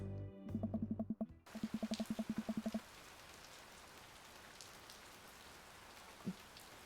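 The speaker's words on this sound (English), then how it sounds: "Should we all just enjoy the sound of rain for a moment?" Steady, soft rain hisses and patters in the Dream Daddy video game, opening with a quick run of repeated, evenly spaced tonal blips before the rain continues alone.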